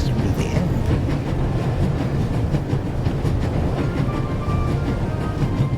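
Train running at full speed in the adventure game The Raven Remastered, a loud steady rumbling roar with rhythmic clickety-clack of wheels on rails, continuous and close with no talk.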